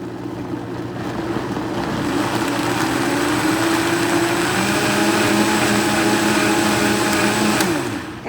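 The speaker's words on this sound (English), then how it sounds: "So let's go ahead and get this blender going." Countertop blender whirring steadily as it purees tomatoes, serrano peppers, onion and garlic for a red salsa, a loud continuous motor drone running nearly the whole time before cutting off at the end.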